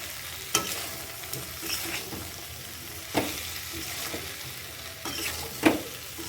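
Jackfruit curry, lightly sweetened with a little sugar, is stir-fried in a pan, with a soft sizzle broken by several sharp scraping strokes of a spoon at uneven intervals.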